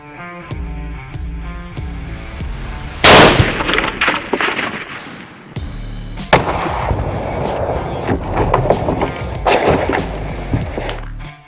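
A rifle fires a Hammer bullet at a muzzle velocity of 3460 into ballistic gel blocks outdoors: one sharp, very loud close shot, then a lingering rumble and fainter clattering noises, with no talking.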